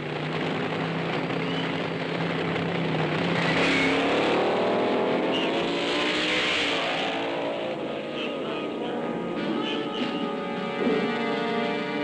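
A fuel dragster from 1965 drag racing, its 1,000-horsepower engine roaring loud and steady for about twelve seconds, the pitch sweeping up and down as the car passes, with no voices over it.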